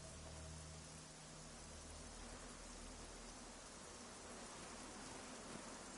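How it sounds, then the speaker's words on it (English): Steady, dense rain hisses without a break in the video game Generation Zero, a broadband wash like downpour on the ground with a faint low rumble beneath, and no voices over it. "Decided to make the rain fluctuate rather than just keep pouring."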